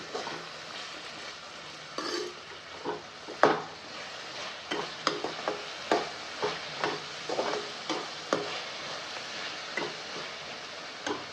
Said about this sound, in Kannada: ಈಗ ಇದನ್ನು ನೀಟಾಗಿ ಒಂದು ಸಾರಿ ಮಿಕ್ಸ್ ಮಾಡ್ಕೊತಾ ಇದ್ದೀನಿ